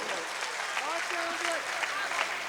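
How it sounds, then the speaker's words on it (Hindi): Audience applause for poet Himanshu Bawandar at a Hindi comedy poetry gathering, a steady wash of clapping with voices talking over it throughout. "बहुत आनंद आ रहा हो तो एक बार जोरदार तालियां हिमांशु बवंडर।"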